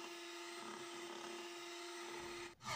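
An electric beater whirs steadily in flour batter, a constant motor drone that cuts out near the end.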